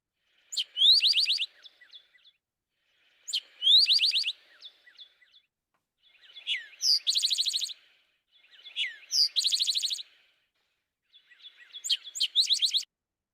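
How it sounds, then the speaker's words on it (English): A songbird runs through three different song types, each delivered twice: six clear bursts of high, rapid chirps and trills separated by silence, close and prominent with nothing else audible. "So I'm going to play 3 song types, each one twice,"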